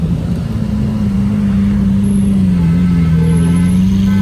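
A McLaren Senna MSO supercar's exhaust during a street parade, a loud, steady low drone that holds close and even throughout with a slight wavering pitch, no voices over it.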